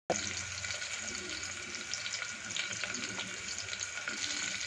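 Onions fry in oil in a pan with a steady, dense sizzle that continues unbroken at moderate loudness, close up.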